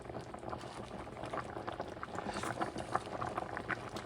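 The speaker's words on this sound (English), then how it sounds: "When it starts simmering" Sauce simmering under a lid in a covered pot for Puerto Rican chicken spaghetti, a steady soft bubbling with small pops throughout, fairly quiet and close, with no talking.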